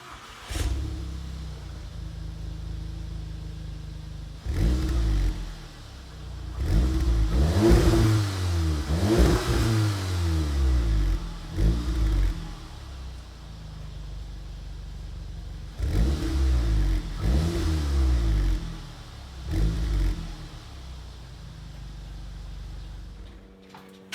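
A 2015 MK7 Volkswagen Golf R with an Invidia Q300 catback exhaust, warm-started and revved in a series of sharp blips that rise and fall, with idle rumble between bursts, heard up close.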